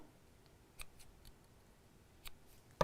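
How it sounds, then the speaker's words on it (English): Small scissors give a few quiet, sharp snips as thread ends are cut off a knot on a sewn felt snowman decoration, separated by short pauses in a quiet room. "So tie that into a knot and snip off the ends."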